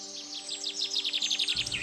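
Small birds in Ranthambore forest call with a quick, repeated run of high chirps, steady and fairly close, over a faint constant hum, with no talk.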